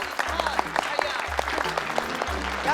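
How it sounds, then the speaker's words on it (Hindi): Applause from a gathering in a comedic scene, brisk scattered claps over a repeating low hum, with voices faintly present underneath. "यहाँ तालियां बजती है।"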